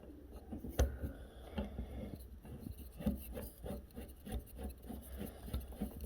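A keyless drill chuck is being screwed back onto a drill by hand on a workbench, giving soft, repeated rasping and rubbing turns with a sharp click near the start. Fairly quiet and close, with no talking.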